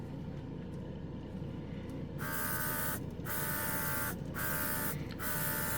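An electric spray gun sprays lacquer paint onto a plastic model in several bursts, an airy hiss broken by short pauses, close by over a steady motor hum.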